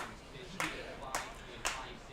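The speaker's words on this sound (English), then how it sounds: "Slow clap starting here in the VIP section at Cantine." Spectators in the VIP section at a summer collegiate baseball game begin a slow clap, three sharp, evenly spaced claps about half a second apart, faint against crowd murmur.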